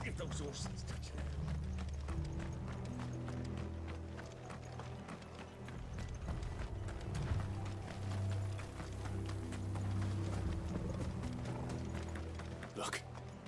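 Horses gallop in Final Fantasy 16 with rapid hoof clatter, mixed with mechanical rattling and music while voices speak over the scene.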